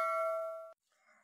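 Notification bell effect: a single bright electronic ding ringing with clear sustained tones, then cutting off abruptly, followed by a faint softer tail.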